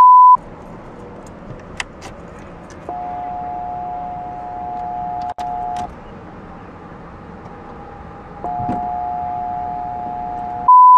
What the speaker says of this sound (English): in the 80s version, had an interior chime that sounded like a tornado air raid siren